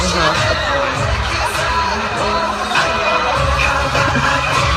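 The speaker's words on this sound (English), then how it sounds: "The screaming, I totally get it." Crowd screaming and cheering at a K-pop dance performance, a dense, loud, continuous roar of many voices filling the whole stretch without clear breaks.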